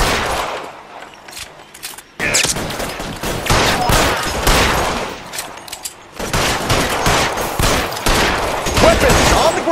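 A dense gunfire shootout in the L.A. Noire video game, with rapid overlapping shots and bursts crackling loudly and continuously, broken by a short pause before the firing resumes.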